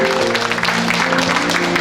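A crowd claps at an anniversary ceremony held by a Korean presidential memorial society, with dense, continuous applause over a low hum and no speech.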